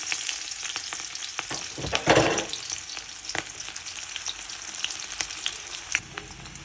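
Onion and green chilli frying in mustard oil give a steady, close hiss of sizzling with scattered crackles and a brief louder burst of spatter and stirring near the two-second mark, with no voices.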